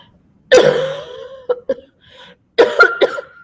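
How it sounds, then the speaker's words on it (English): A person coughs in several harsh bursts: one long hacking cough, a pair of short ones, then another cluster of rough coughs, close and loud with brief silences between. "Hold on, I'm going to cough."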